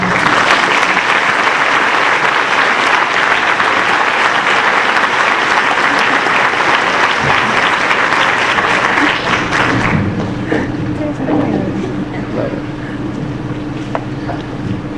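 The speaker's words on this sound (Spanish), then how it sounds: "Un aplauso" A crowd at a book presentation applauds loudly and steadily for about ten seconds, then the clapping fades into a quieter room with scattered noises.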